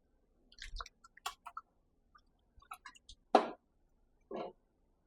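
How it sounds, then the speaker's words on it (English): Curry red snapper with water and green seasoning being stirred in a pot, giving sparse wet scrapes and soft clicks, with a couple of louder, longer strokes near the end and no talking. "Stir everything together."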